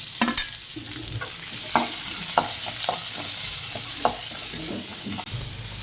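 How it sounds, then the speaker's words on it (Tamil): Onion, curry leaves and chili sautéing in a pan with cumin, a steady close sizzle broken by repeated clinks and scrapes of a spoon stirring throughout. "வெங்காயம் கருவேப்பு மிளகாய் எல்லாமே போட்டு ஒரு ரெண்டு நிமிஷம் வணக்கிக்கலாம்"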